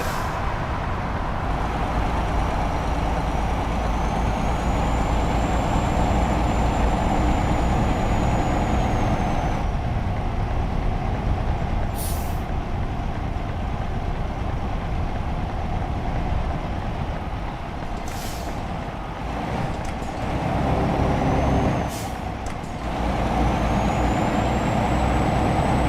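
Truck air brakes in a modded truck-driving game with a wheel controller: a steady loud engine and road drone, with several short sharp hissing air bursts on top.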